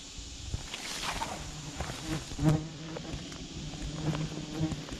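Baldfaced hornets buzz around their removed paper nest near a deck, several insects droning at close range with short passes, wingbeat whines and faint tapping.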